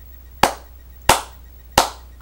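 Three sharp hand claps, single and evenly spaced about two-thirds of a second apart, each crisp and close with a short decay into quiet.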